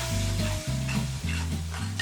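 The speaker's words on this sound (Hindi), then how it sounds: "इसको भी मिक्स करके भूनेंगे जब तक के टमाटरों का कच्चापन निकल ना जाए" Tomato puree fries and sizzles in a pan while being stirred for Sindhi chicken, the steady hiss broken by rhythmic spoon scrapes and a low hum underneath, close and loud with no speech.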